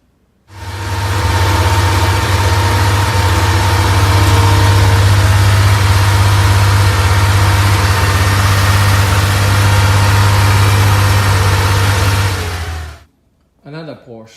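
A Porsche 2.4 engine idles steadily in a garage for about twelve seconds, a loud, even rumble with a strong low drone that then cuts off, leaving a short burst of faint sound.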